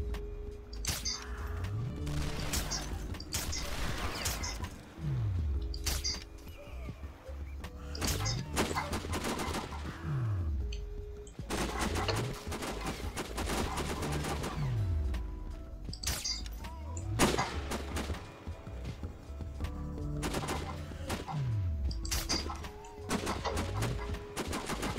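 Gunfire from the video game Sniper Ghost Warrior cracks out in repeated single loud shots spaced a few seconds apart, each trailing a falling boom, over a low game soundscape.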